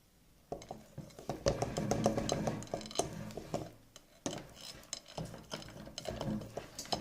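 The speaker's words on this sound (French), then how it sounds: "on mélange le tout rapidement et on fait directement cuire" Chocolate almond cake batter being mixed quickly in a bowl, a close run of irregular spoon-on-bowl scrapes and soft clinks in uneven bursts with brief pauses.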